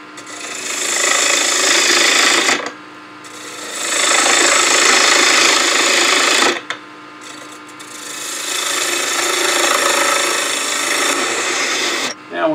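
A wood turning tool cuts on a lathe while turning small birdhouse ornaments, producing three long, loud, steady scraping passes separated by brief pauses, close up.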